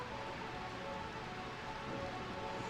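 Rain falling in Final Fantasy IX, a faint, even hiss of steady downpour with no talk over it.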